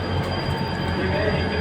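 The Mehran Express to Mirpur Khas moves through Karachi City railway station, a loud close rumble of wheels and carriages with a thin high squeal running steadily above it, brief and continuous.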